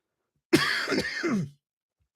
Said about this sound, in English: Good God, now I've developed a cough.